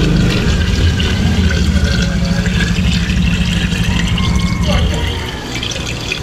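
Heated water is poured into a pot while cooking lomi outdoors, a steady splashing gush that runs continuously and then eases near the end, close and loud, with a voice talking over it.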